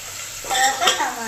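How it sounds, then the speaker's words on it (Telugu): Sliced onion and green chillies hit hot oil in a pan with a sharp sizzle and a brief scrape of stirring, close and clear over just over a second. "తర్వాత పచ్చిమిర్చి వేసుకుందాం"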